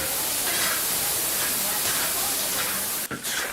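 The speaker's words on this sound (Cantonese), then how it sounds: "把這個鴨子炒糟了，再下油爆香，爆香以後你再下這個酸筍，再下這個香料。" Duck pieces stir-fry in hot oil with pickled bamboo shoots and spices, giving a steady, loud hissing sizzle that carries throughout with a brief dip near the end.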